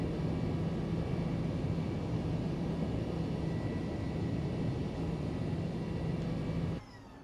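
Steady loud engine drone of a DC-3 aircraft in a flight simulator game as it taxis after landing, a constant rumbling hum with a faint tonal whine that drops off abruptly near the end.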